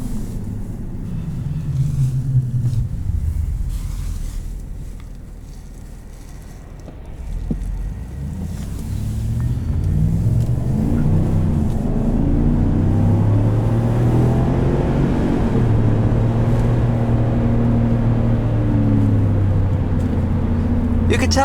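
A 2021 Chevrolet Silverado 1500 LT Trail Boss with a Borla exhaust drives along, its low engine drone dipping, then rising as it accelerates, with a deep exhaust tone and wind noise filling the cab.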